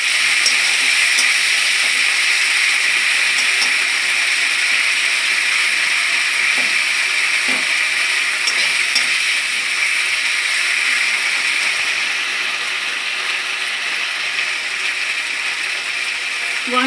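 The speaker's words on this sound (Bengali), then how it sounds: "এবার আমি এটাকে ভালো করে ফ্রাই করব।" Cumin paste and spices frying in a pan for a Bengali pabda fish curry, a steady continuous sizzle with faint scraping and stirring ticks throughout, close and fairly loud, no talk.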